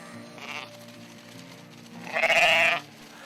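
Sheep bleat on a Western cattle and sheep range: a short, softer bleat early on, then a louder, drawn-out bleat close by, with quiet pauses between.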